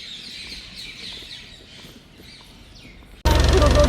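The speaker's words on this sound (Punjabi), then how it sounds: "ਚਿੜੀਆਂ ਦੀਆਂ ਆਵਾਜ਼ਾਂ ਦੇਖੋ ਆ ਗਈਆਂ" Faint, quick chirps of sparrows repeat in the distance at Shri Bhaini Sahib, then a sudden loud burst of noise cuts in at the end.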